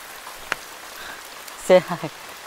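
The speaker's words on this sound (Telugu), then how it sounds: "జంగల్లో ఫుల్ వర్షం పడుతుంది" Heavy rain hisses softly and steadily in a jungle, with a single sharp tap and a brief burst of voice near the end.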